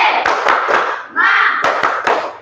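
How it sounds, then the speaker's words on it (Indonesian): A school class performs a rhythmic clapping routine: loud, close hand claps and thumps land in a clear beat while voices chant along, with a brief sung phrase in the middle before the claps resume. "Sebelumnya tepuk semangat"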